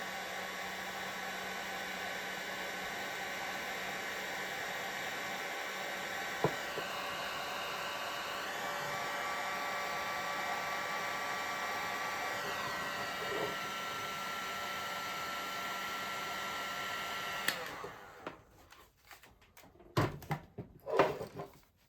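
A heat gun heating heat shrink tubing over a crimped wire connection: a steady blowing whir for most of the clip, then cutting off and leaving a few faint handling clicks and knocks.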